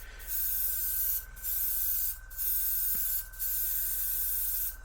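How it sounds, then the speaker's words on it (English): A Gaahleri Swallowtail Barbastos Rex trigger airbrush sprays atomized paint in four steady hissing bursts of about a second each, close and loud, separated by short pauses, with a faint tone running underneath. "atomizing the paint, and it's chunking it through the airbrush"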